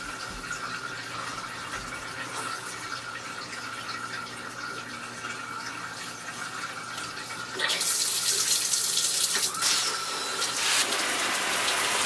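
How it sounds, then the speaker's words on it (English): A shower runs at full pressure with a dense, steady hiss of spray that grows louder and brighter partway through and continues alone without talk. "I'm gonna now change the water pressure from this full-blown to more of a steamy mist"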